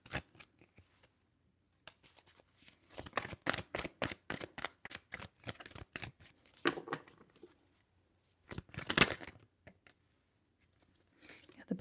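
Tarot cards are shuffled in a quick run of crisp, rhythmic flicks, then a pause and a few more riffles and soft slides as a card is drawn, close and intimate.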